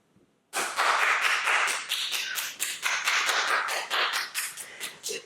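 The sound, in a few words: applause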